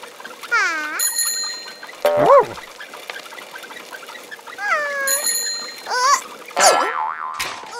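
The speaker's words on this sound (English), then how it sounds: "Pinkerton rings his bell when he passes people on his bike." A bicycle bell rings in two bright bursts amid cartoon boing and sliding whistle effects. The sounds are close and lively with no speech.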